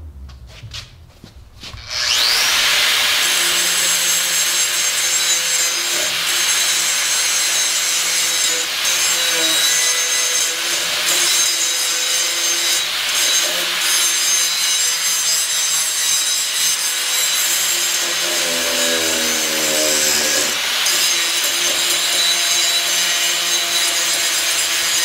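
A harsh, continuous grinding stone cleaning a rusty steel weld, loud and steady for the whole stretch after a brief start-up, with no talking.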